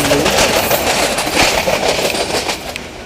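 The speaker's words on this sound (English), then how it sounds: "See the beautiful small train running on the metal gauge track." Small five-coach train on metre gauge track, a close, loud rumbling run with rhythmic clickety-clack of wheels over rail joints, steady throughout without speech.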